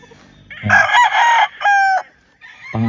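A talisain-feathered gamecock of Gilmore type crows loudly and close by, a long strained call broken into bursts, then a lower cluck or start of another crow at the end.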